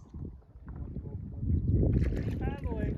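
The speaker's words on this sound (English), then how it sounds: "Paddling." Paddles dip and swish through the water from a double sea kayak off Halifax, Nova Scotia, a short watery splashing and gurgling that grows louder midway, with wind noise and a voice speaking briefly.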